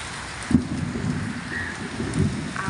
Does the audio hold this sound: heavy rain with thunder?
yes